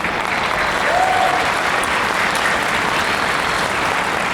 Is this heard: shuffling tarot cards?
no